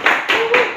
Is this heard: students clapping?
yes